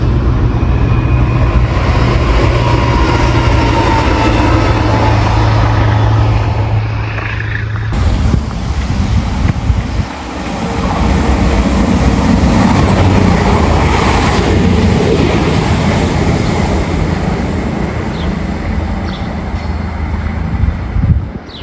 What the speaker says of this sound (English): That's definitely a diesel.